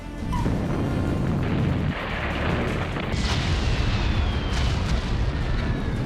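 Israeli bombs fall on a Hezbollah meeting in Beirut's southern Dahieh area, producing a loud, sustained roar of deep rumbling booms with overlapping blasts that barely let up.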